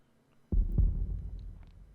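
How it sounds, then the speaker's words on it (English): Heartbeat sound effect in the Chrono Cross video game, a couple of deep low thumps that begin abruptly and then fade into a quiet rumble. "What's with the heartbeat?"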